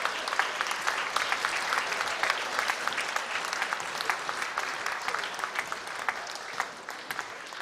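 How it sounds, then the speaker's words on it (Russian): Festival crowd in a concert hall at an interregional music festival in Yaroslavl gives sustained applause, dense and even clapping that holds steady throughout, heard from a distance with no voices over it. "Ваши аплодисменты, дорогие друзья."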